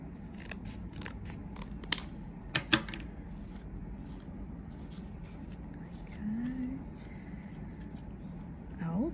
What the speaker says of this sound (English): I'm gonna have to trim these too.